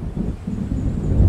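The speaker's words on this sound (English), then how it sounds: "It seems there's a storm coming." Deep, rumbling thunder from an approaching storm in the video game Alan Wake rolls on continuously, loud and low with a slight swell at the end.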